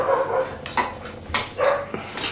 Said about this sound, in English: that's Strider. She's noisy, and you'll hear her in the background